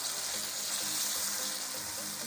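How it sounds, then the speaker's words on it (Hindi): Chicken karahi sizzles loudly in a pan as cumin and coriander powder are stirred through, a dense, continuous frying hiss close up with faint stirring scrapes underneath. "अब इसको अच्छे से करते हैं मिक्स।"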